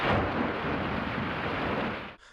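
Heavy afternoon rain pours down over flooded Istanbul streets with a deep rumble of thunder, a loud continuous roar that cuts off abruptly at the end.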